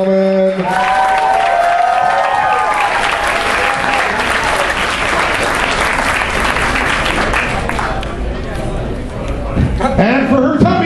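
Loud, sustained crowd applause and cheering for a contestant at the ALL-CON 2011 costume contest, swelling across the room with chatter mixed in and a brief musical tone at the very start.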